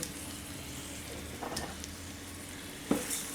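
Rice fries and gets stirred in hot oil in a pan, a steady close sizzle with a few soft scrapes and clinks of the spoon.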